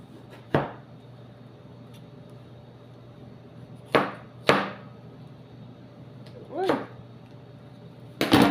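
A knife cuts through watermelon rind in a series of about five sharp, separate chops spaced a second or more apart, each one close and crisp against an otherwise quiet background.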